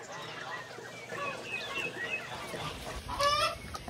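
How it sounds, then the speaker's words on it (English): Chickens, including a rooster among mosaic-colored birds, cluck and call nearby in a quail-raising setting, with a person talking over the fowl. "Those mosaics are some kind of pretty chickens. Look at that rooster."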